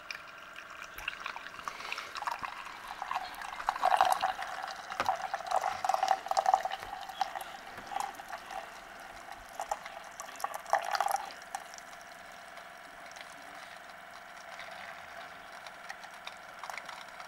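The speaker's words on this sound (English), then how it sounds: "That's water. That's not hot cocoa." Water pours and trickles into a container in a couple of soft bursts, with drips and a faint hiss in between, fairly close and quiet.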